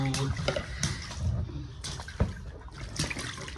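Water splashes and sloshes as a small child is bathed in a little pool, soft trickles and pours coming in bursts up close, with talk over the top.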